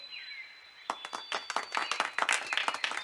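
Cartoon clapping in a children's crafts show: after a brief quiet start with a thin tone, a rapid run of sharp, close hand claps bursts in and continues steadily to the end.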